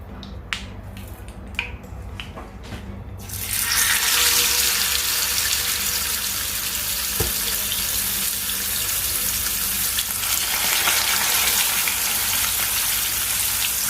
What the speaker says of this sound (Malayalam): ഇനി അതിലേക്ക് നമുക്ക് മീൻ ഇട്ട് കൊടുക്കാം.